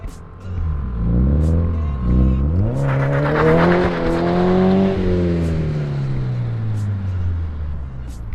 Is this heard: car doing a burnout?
yes